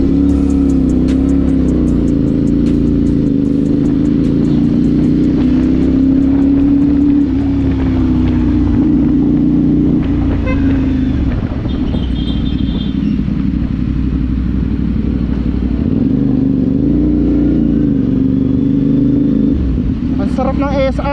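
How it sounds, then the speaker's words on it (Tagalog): A CF Moto 450SR motorcycle engine on a ride, a loud, steady, smooth drone that rises and falls slightly with the throttle, with wind rush and occasional clatter over it. "Sarap ng SR oh, grabe. Ang smooth ng makina."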